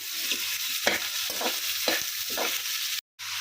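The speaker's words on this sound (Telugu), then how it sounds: "ఇలా వేసేసుకొని దోరగా వేయించుకోవాలి" Ridge gourd peels fry and sizzle in hot oil in a pan, with a steady hiss throughout and several distinct scrapes as a spoon stirs them, close and moderately loud.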